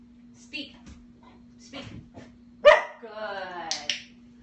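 A puppy gives a single short bark on a spoken command during a training session, followed by a whiny, whimpering vocal, with a person's voice speaking briefly around it and a steady low hum beneath.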